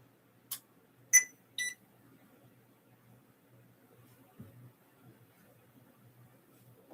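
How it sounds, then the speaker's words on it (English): A machine gives three short, high electronic beeps in quick succession as it switches on, then falls quiet with only faint low background noise and a soft bump afterward. "Did you hear the beep beep?"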